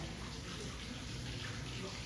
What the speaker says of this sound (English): you come over to the sink, you get a little bit of hot water